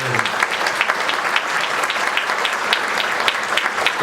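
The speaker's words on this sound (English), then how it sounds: "take a round of applause" A room of attendees at the Michigan Works! Association 2024 Impact Awards claps steadily for the interns, dense and even applause lasting the whole stretch with no voices over it.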